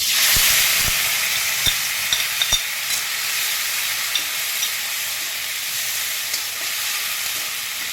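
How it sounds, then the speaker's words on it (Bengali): A paste of onion, garlic, ginger and green chili fries in hot oil with whole cloves, cinnamon, cardamom and bay leaf, giving a steady loud sizzle with sharp spoon-scrape clicks as it is stirred, no voices. "এটাকে আমি খুব সুন্দরভাবে একটু কষিয়ে নেবো"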